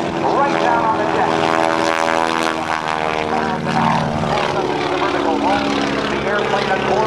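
Aerobatic propeller airplane flown low over the runway in an airshow routine at NAS Oceana in 2008, a loud, steady droning engine and propeller roar with shifting pitch as it maneuvers, close and continuous, with a voice faintly under it.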